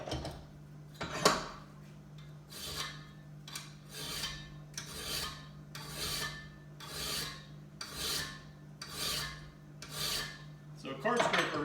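A steel card scraper edge is filed flat with a rhythmic rasping, about ten steady back-and-forth strokes evenly spaced, close and fairly quiet over a low background hum.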